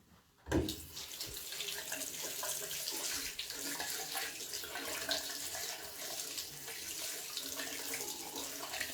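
Tap water running over a hand at a sink, starting with a sudden splash and then settling into a steady, close rush of flowing water that continues evenly throughout.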